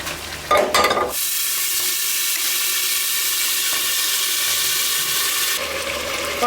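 Cooked-down beef for Old Dhaka-style beef tehari scraped and poured into a pressure cooker, a brief clatter followed by a loud, steady hissing rush of sizzling liquid that continues for several seconds, no voices.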